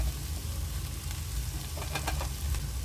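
Chopped leftover chapati is stirred in a hot pan for kothu parotta, giving a steady close sizzle and fry with soft scraping stir sounds near the end.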